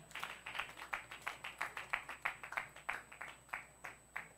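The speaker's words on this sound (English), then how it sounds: "Let's clap for Minister Queen. Let's clap for Minister Tego." A church congregation applauds its ministers at a Sunday celebration service, a steady run of brisk, rhythmic hand claps at moderate distance, about four to five per second, continuing evenly with no talking over them.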